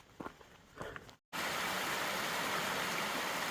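Brown Mountain Creek in the Virginia Appalachians rushes as a steady, loud broadband wash of flowing water, starting after a brief cut and continuing unbroken, preceded by faint footsteps and rustling.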